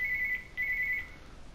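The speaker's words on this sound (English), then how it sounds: "Oh, that's the phone." A telephone rings indoors with two steady electronic trill bursts separated by a short gap, moderately loud and with no talking.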